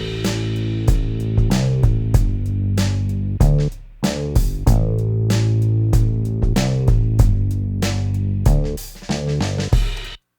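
A Logic Pro Drummer track plays a groove whose kick drum follows a bass line, loud and close with punchy kick and snare hits, cymbal crashes and sustained low bass notes in a steady rhythm, no voices.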